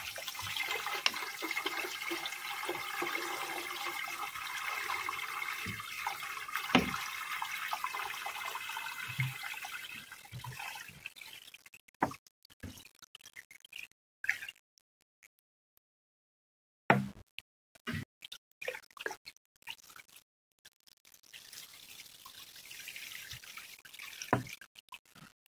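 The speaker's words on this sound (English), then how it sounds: "You can fill water in desiccator above this lid like this." Clear water poured into a leak test desiccator, a steady close splashing flow for about ten seconds, then sparse drips and small trickles with brief silences.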